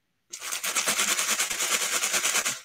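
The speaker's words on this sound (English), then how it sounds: "That is the sound of t-shirts inside of a bag." T-shirts shuffled and shaken inside a sealed bag, a close, loud, continuous rustling with a fast rhythmic crinkle that starts abruptly after a brief silence and runs without talk.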